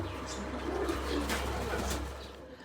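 Pigeons coo softly nearby over a low steady hum, a few faint throaty calls rising and fading across a couple of seconds.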